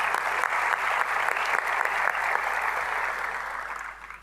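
Conference audience clapping at an opening session in Barcelona, a dense, sustained burst of applause from a large crowd that fades slightly toward the end.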